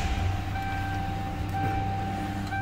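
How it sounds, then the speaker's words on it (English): A 2007 Lincoln Town Car's engine idles with a low, even hum and faint steady whine, close and constant, with no talk over it. "Start it up, let's hear it run."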